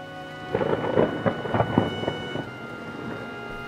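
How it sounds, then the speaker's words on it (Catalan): Heavy rain pours onto a lake, a steady wash of drops under a series of rumbling thunder bursts that swell and fade over a few seconds, fairly close and loud, with no voices. "La pluja cau amb força i fa cercles petits sobre l'aigua del llac."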